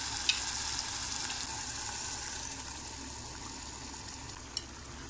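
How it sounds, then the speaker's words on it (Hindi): Eggs sizzle in a pan of fried tomatoes for egg bhurji, a steady hiss of frying with occasional faint clicks from stirring, close and even with no talk. "अब अंडों को इसमें हम ऐड करते हैं।"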